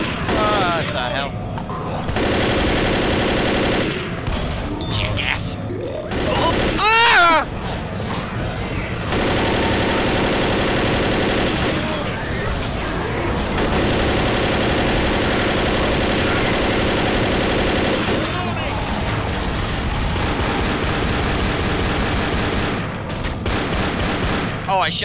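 Rapid bursts of gunfire from the zombie shooter Left 4 Dead, loud and dense, nearly continuous through a chaotic firefight with brief lulls, while players talk and shout over it.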